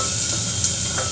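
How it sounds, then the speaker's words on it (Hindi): Onions sizzle and sauté in a pan, a continuous close hiss of frying with faint stirring scrapes and no talk. "प्याज को ज़्यादा डार्क नहीं करना है, बस 2 मिनट हल्का सा चला के"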